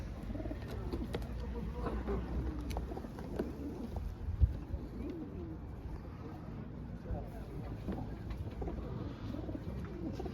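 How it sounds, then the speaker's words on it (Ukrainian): Pigeons coo softly in a low, repeated murmur amid a busy indoor hubbub of birds at a pigeon show in Ivano-Frankivsk, with a single sharp knock partway through. "Виставка голуб, Івано-Франківська."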